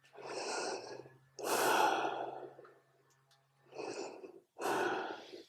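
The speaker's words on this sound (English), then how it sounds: "Take 2 deep breaths." Two slow, deep breaths taken during a pelvic floor exercise routine, each a soft inhale followed by a long audible exhale, close and quiet with a gap between them.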